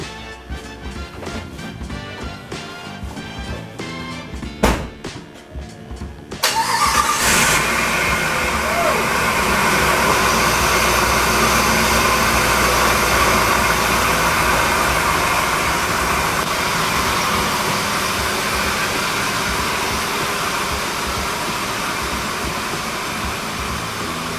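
A 2005 Jeep Grand Cherokee with 140,000 miles and fresh spark plugs starts in a garage after some clicks and clatter, then settles into a loud, steady idle that runs on without a break.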